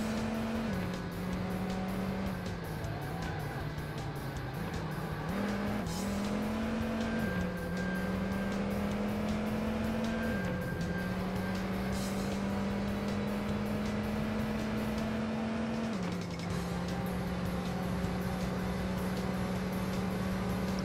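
An AC Cobra 427 engine in the racing game TORCS drones steadily as the car is driven, its pitch dipping and rising with each gear change and braking, loud and continuous with no talk.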